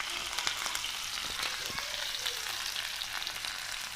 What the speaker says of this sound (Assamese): এতিয়া আমি অলপ সময় লৰাই ভাজি থাকিম